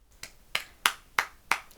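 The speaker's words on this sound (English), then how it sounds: "2 claps there, Olivia." Five sharp hand claps in a steady, evenly spaced rhythm, close and crisp with no talking.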